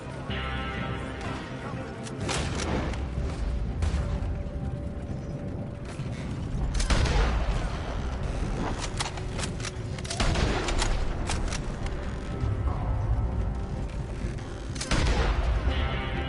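Gunfire in Red Dead Redemption 2: several sharp, loud gunshot cracks spaced across a dense, busy game soundscape with mechanical clatter, including a headshot on an enemy.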